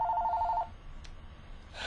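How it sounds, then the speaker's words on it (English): A telephone rings indoors in a quiet room, its pulsing electronic tone repeating for well under a second before it cuts off, followed by faint room noise with no talk. "this phone is driving me nuts"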